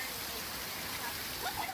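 Heavy rain pours down during a strong thunderstorm over Dallas-Fort Worth in North Texas, a steady broadband hiss of rainfall with no clear thunder, fairly faint throughout.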